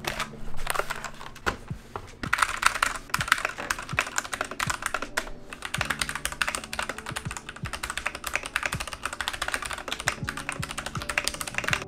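Rapid, continuous typing on a Keychron C1 mechanical keyboard, crisp clicky keystrokes in quick rhythm, close up with no talking.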